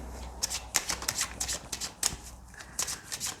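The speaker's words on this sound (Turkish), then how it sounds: "Bu üç desteden de buraya kartlar seçeceğim" Cards from three tarot decks are shuffled by hand in a steady stream of light, crisp slaps and flicks. The sound is close and fairly quiet, with no talking.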